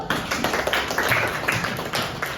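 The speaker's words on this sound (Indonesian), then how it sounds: "Beri tepuk tangan yuk." A school class clapping hands together during a teaching-practice lesson, a short burst of uneven, close applause filling the room without talk.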